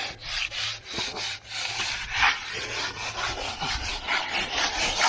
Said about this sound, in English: you just want to rub it real light, because even though that this is tight, it's still getting a lot of movement